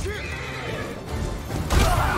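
A horse in a Ghost of Tsushima charge lets out a loud whinny over running hoofbeats and battle ambience, the neigh rising early and the commotion growing heavier toward the end.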